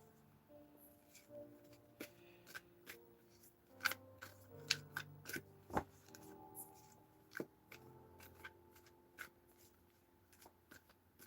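Tarot cards are shuffled by hand in quiet, close bursts of riffling and soft slaps, with irregular taps and pauses between them.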